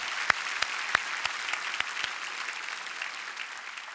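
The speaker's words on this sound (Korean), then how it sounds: "우리 봉사자들 향해 우리 다시 한번 격려의 박수 부탁드리겠습니다" A church gathering applauds its volunteers at a Daniel prayer meeting launch, a steady crowd clapping at moderate distance with a few sharper claps standing out at the start, holding evenly for the whole stretch.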